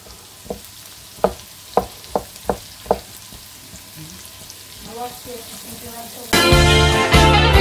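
Onions and shallot in a pan: several sharp utensil taps come first, then a loud burst of sizzling frying erupts and carries on steadily to the end.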